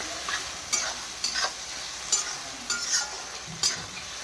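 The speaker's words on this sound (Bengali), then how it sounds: "এগুলো ভেজে নিই।" Spices fry in a pan for baingan bharta, a constant sizzle broken by regular scraping strokes of a spoon stirring, about five or six evenly spaced passes close by.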